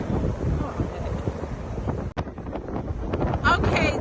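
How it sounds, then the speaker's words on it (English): Wind blustering across an outdoor microphone on a windy day while riding bikes, a steady broadband rush with gusts throughout, briefly dropping out mid-way, with voices talking underneath. "it's a windy day"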